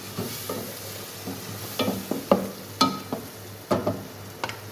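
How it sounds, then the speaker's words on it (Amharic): Tomato is mixed into fried onion and spices in a pan, with intermittent spoon scrapes and clicks over a low, steady sizzle, close and fairly quiet, in uneven strokes. "አሁን ቲማቲም ጨምረናል። ሚክስ እናደርጋለን።"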